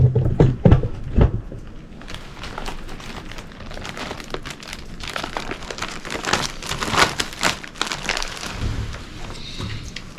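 Boiled water poured from a pot into a Knorr meal pouch on a backpacking trail, with splashing, crinkling pouch noises and clattering handling sounds in uneven bursts, moderately close.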